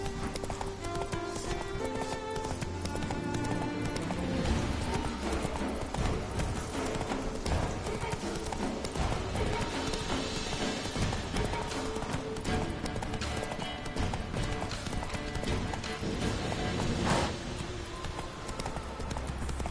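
A horse gallops in the video game The Witcher 3, rapid rhythmic hoofbeats that carry on steadily under game music, with brief voices now and then.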